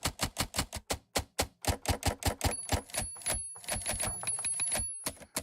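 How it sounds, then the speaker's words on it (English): A typewriter sound effect from an iOS keyboard app gives a fast, rhythmic run of sharp key clacks, followed by denser typing under a sustained high bell-like ring, close and clear. "you probably guessed the first sound here is a typewriter"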